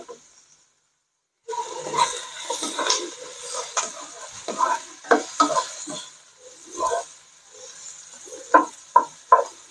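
Garlic and onions sautéing in a pan: a thin sizzle broken by repeated stirring scrapes and clatters, after a short silent start, close and moderately loud.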